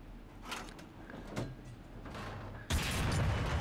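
Leopard I tank cannon in War Thunder fires a shell that ricochets: a few muffled thumps, then a sudden loud, broad blast near the end that stays sustained.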